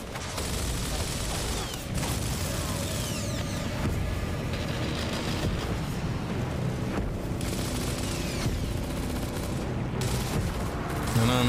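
Dense, continuous gunfire from the Gears of War Ultimate Edition battle, with overlapping bursts and impacts forming a loud, steady wall of combat noise and voices shouting beneath the shooting throughout.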